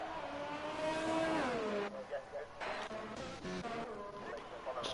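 A Toro Rosso race car in a PS4 racing game at the Belgium circuit, its engine whining and rising in pitch as it approaches, then settling under someone commentator's continuous voice.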